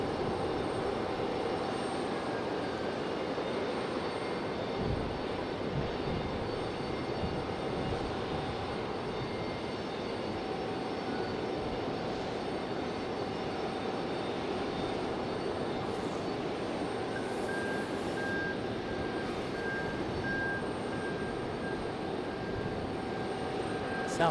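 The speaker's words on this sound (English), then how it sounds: "This is Southwest 3696 and 737-800." A Southwest Airlines Boeing 737-800 at Raleigh Durham airport gives off a steady, moderately distant jet engine drone that holds evenly for the whole stretch, with a faint high whine above it.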